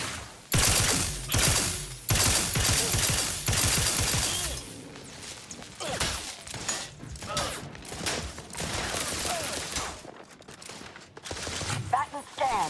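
Gunfire bursts in The Outer Worlds 2, loud sharp volleys in the first half that give way to scattered shots, clanks and mechanical noises, with a voice talking at times.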